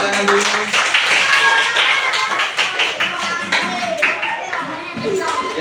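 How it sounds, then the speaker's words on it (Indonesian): Classroom full of students clapping together, a dense patter of many hands that holds steady for several seconds, mixed with voices chattering over the clapping. "tepuk tangan dulu"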